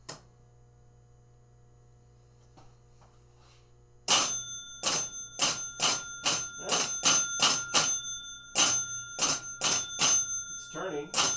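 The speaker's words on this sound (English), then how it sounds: "It's just ringing the bell." A pinball machine's bell rings in a rapid series of about a dozen bright metallic dings after a quiet stretch with faint electrical hum.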